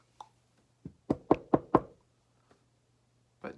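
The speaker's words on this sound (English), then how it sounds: "she gave the door a knock" A series of sharp knocks on a wooden door, four quick raps in a row after a couple of lighter taps, close and distinct in a quiet room.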